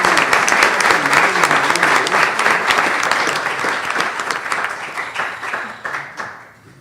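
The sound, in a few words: audience applause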